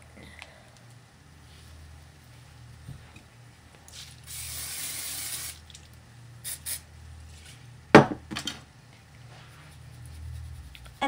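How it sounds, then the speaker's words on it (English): Hairspray is sprayed onto teased hair in one soft hissing burst of about a second and a half. Faint clicks and small handling noises come before and after it in a quiet room. "And the hairspray just makes it, gives the hair a little bit of texture."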